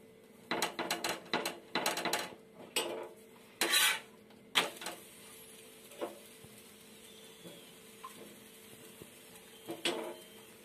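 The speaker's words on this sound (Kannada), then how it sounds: "ಈಗ ಒಂದು ಸೈಡ್ ತಿರುಗಿಸ್ಬಿಟ್ಟು ಒಂದು ಚೂರೆ ಎಣ್ಣೆ ಹಾಕೊಂಡು ಬೇಯಿಸ್ಕೊಳ್ತೀನಿ" A chapati cooks on a pan with a little oil, marked by a scatter of metallic clinks and scrapes of a utensil against the pan, quite close, over a quiet low background hum with no speech.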